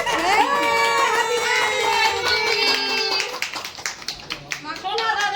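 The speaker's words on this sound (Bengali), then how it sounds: "এবার হাততালি দাও, হাততালি দাও" A group claps at a child's birthday party at home; loud voices fill the first part, then quick, uneven hand claps break out near the end.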